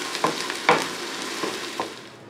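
Garlic and onion sauté in hot cooking oil, a steady close sizzle broken by a few sharp scraping stirs of a utensil against the pan, fading slightly toward the end.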